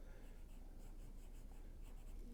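A pen scratches across paper in short, quiet strokes while a cartoon nose is drawn, a faint soft scribbling close by.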